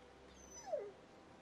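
In The Walking Dead Season 2 video game, a dog lets out one faint, short falling whimper, a thin whine sliding down in pitch, heard alone against quiet background.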